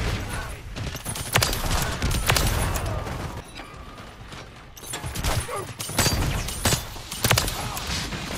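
The MX Guardian automatic weapon in a video game fires in rapid bursts of sharp reports over several seconds, with brief pauses and mechanical clicks between volleys.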